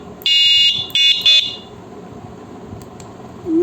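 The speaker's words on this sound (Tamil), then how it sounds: "மெயினான ஹாரன் வந்துருச்சு" An electric bicycle horn beeps three times, a shrill, piercing electronic tone in short bursts, then quiet background noise.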